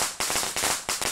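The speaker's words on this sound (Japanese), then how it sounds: "爆竹。" Firecrackers exploding in the horror video game Shadow Corridor, a fast string of loud, sharp cracks crowding close together.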